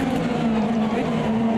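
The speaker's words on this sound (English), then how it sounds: "the big V6 burbling away" An Indycar V6 engine in the racing game Automobilista 2 burbles steadily at low revs, a constant droning hum held up close for the whole stretch without a break.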